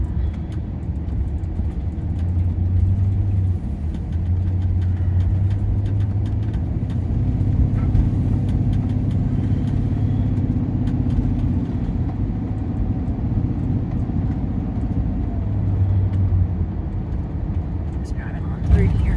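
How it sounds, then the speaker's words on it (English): A car rolls slowly through a hurricane-damaged town with fallen trees and closed roads, its steady low engine and road rumble running continuously inside the cabin. "Just driving on through here."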